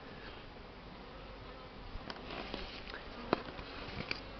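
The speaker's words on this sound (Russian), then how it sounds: "пчелки. Начали работать." Honey bees hum steadily at the hive entrance in early spring, workers returning with hazel pollen loads, a low continuous drone with a few sharp ticks near the end.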